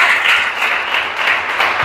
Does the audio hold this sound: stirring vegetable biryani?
no